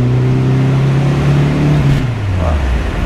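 A Renault R8 Gordini engine, still being run in, pulls loudly from close by as the car accelerates, its droning note holding steady and then dropping near the end.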